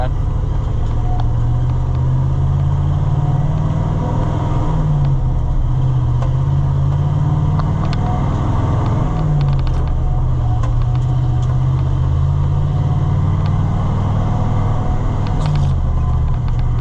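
A loud, rough old truck engine idles steadily up close on a cold morning, coughing, its low drone wavering now and then, with faint voices occasionally audible over the noise.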